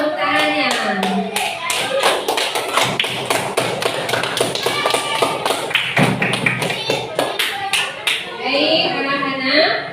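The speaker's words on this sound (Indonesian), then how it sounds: "Tepuk tangan buat kelompok terakhir dan kita semua." Students in a morning classroom session clap for the last group, the claps coming as sharp taps of many hands, mixed with children's voices talking throughout.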